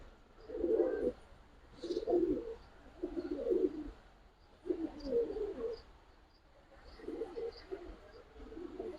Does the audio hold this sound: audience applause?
no